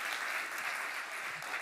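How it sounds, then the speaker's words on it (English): Workshop attendees give a brief round of applause for everyone attending, a short steady wash of clapping heard at moderate distance with no talk. "I suggest a round of applause for everyone who's attending"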